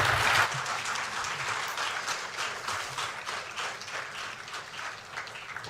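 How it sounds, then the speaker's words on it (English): Sustained applause from a crowd for the President of Ghana at a swearing-in ceremony for new security chiefs, steady and dense clapping throughout with no voices over it. "Please, can we give Mr. President another round of applause, please?"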